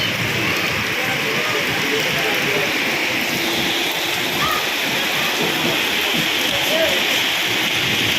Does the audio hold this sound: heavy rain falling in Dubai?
yes